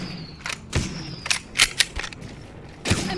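Gunshots in Apex Legends ring out as a series of sharp, separate cracks at an irregular pace, some close together and one final loud shot, over a faint background hum.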